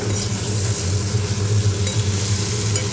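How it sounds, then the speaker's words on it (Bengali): Ridge gourd is stirred as it fries in spice paste, giving a steady, close sizzle with soft scraping of a spatula in the pan and no talking. "এবার আমি ঝিঙেগুলো দিয়ে দিলাম। ঝিঙেগুলো দিয়ে একটু নাড়াচাড়া করবো।"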